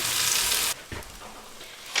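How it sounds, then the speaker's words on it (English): Onions sautéing in a pan at a tiny winter cabin, with a loud hissing sizzle that cuts off sharply partway through, followed by softer scattered crackles and clinks. "Now we're gonna go ahead and dump our onions in. We're gonna let them start sauteing down a little ways."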